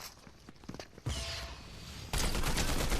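Combat assault rifle gunfire in Fortnite Zero Build rings out as sharp, rapid bursts that grow louder and denser toward the end, with no talking over them.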